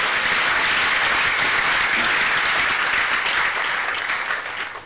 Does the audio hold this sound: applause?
yes